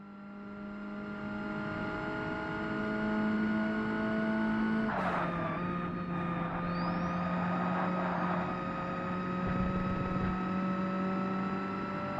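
A racing car engine in the game Forza Motorsport on the original Xbox drones at steady pitch, then shifts with a brief burst of noise before settling into a sustained hum again.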